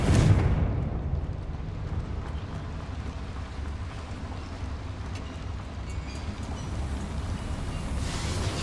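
A Confringo explosive spell from Hogwarts Legacy bursts loudly at the start, followed by a sustained rumbling roar that lingers steadily for several seconds, with no talking.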